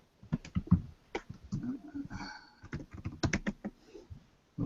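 Typing on a computer keyboard makes a close, uneven patter of key clicks in short bursts with brief pauses, and no one speaks over it.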